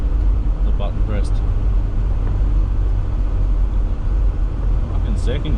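A 600hp 2JZ-powered Commodore in a road-trip drag challenge roars hard under acceleration, a loud, dense, continuous engine rumble heard from inside the car, with voices talking over it.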